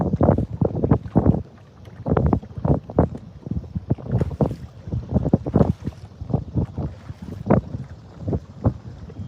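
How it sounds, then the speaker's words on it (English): Gusty wind over a lake buffets the microphone in uneven, rumbling bursts while catfishing from a boat, loud and close, with a faint wash of water beneath. "If this wind keeps up and makes it hard to sit still"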